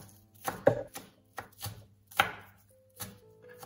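A knife chops green onions finely on a board, giving a handful of sharp, separate close-up knocks spaced irregularly with quiet gaps between, no talking.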